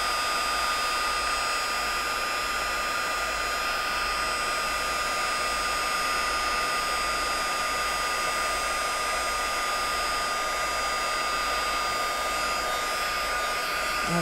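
A heat tool blows hot air continuously to melt embossing powder, a steady loud whirring hiss that holds unbroken with no talking over it.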